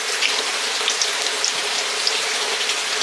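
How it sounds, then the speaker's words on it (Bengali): Heavy monsoon rain falls steadily over paddy fields, a bright, even hiss of countless drops with occasional sharper spatters, continuous and unbroken with no voices. "আজকেরই বেশি বৃষ্টি হচ্ছেও"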